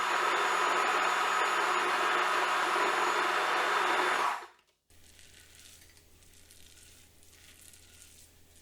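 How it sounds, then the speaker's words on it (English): A food processor whizzes almond dough in a loud, continuous motor roar for about four seconds, then cuts out abruptly, leaving a quieter room with faint handling noises. "A little scrape down halfway through the whizzing to make sure it's all evenly processed."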